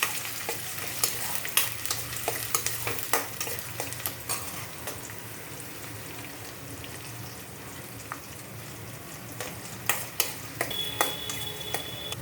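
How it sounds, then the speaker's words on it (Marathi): Garlic and onion fry in a pan while being stirred, giving a steady low sizzle broken by frequent scraping and clicking of the spoon against the pan, with no voices. "लसूण टाकल्यानंतर कांदा, व्यवस्थित मिक्स करणार आहोत।"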